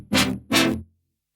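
The main synth lead of an electronic dance track drop, playing two loud, bright, sustained notes in quick succession, with a low tail fading out afterward.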